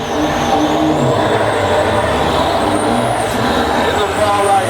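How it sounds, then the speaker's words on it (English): A diesel drag racing truck engine roars steadily and loud at a drag strip, a sustained rough drone with a rising whine that holds for the whole stretch without a break. "He's just ramming as much diesel into that engine as he can possibly get."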